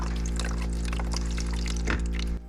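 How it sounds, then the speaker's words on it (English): Water pours and trickles into the ice maker of an LG refrigerator after a reset, a steady close fill over a loud low hum, stopping abruptly near the end. "And we got water coming in."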